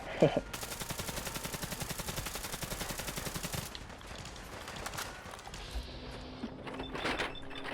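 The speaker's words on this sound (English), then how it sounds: "I really like this weapon, this mod, but man, the recoil on this gun is just something else, man. I mean, it is an AK" AK assault rifle firing full auto in Fallout 4, a rapid even burst of about three seconds of close, loud shots, followed by quieter game sounds and scattered clicks.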